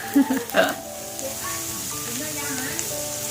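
Pork sizzling on a Thai mookata grill pan, a soft steady crackle with a few brief louder clatters near the start, faint and close.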